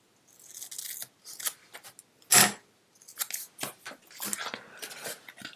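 Scissors trim paper for a spring explosion box, giving a series of close, crisp snips and rustles at an uneven rhythm, with one louder cut near the middle.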